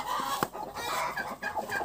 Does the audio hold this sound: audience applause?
no